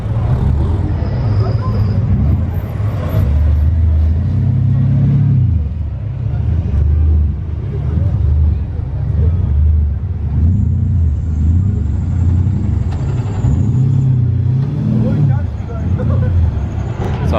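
Modified Nissan GTR at a track event at Spa: a deep, loud engine rumble that swells and fades as the car idles and revs at low speed nearby, with people talking over it throughout.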